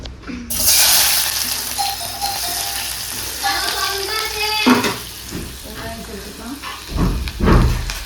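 Prawns and onion sauté in hot oil, giving a loud, continuous sizzle broken by stirring scrapes and clatter from a spatula against the pan.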